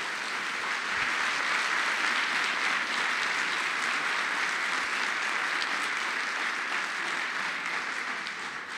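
Steady, full applause from an audience closing out Marc Petit's keynote at a RADI-RAF event, a dense even wash of clapping that holds at a constant level for nearly nine seconds with no voices over it.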